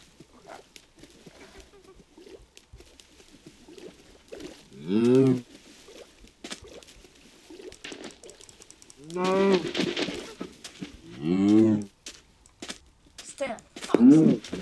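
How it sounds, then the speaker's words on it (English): Several low, drawn-out Minecraft cow moos sound at intervals, each a couple of seconds long, with a person speaking quietly in between. "Oh, there's cows."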